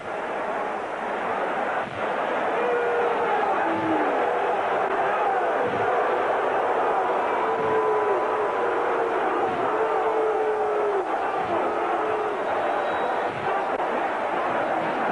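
A steady roar from a football stadium crowd at a 1982 Redskins versus Saints game, a broad continuous wash of noise heard at a distance, with faint speech under it.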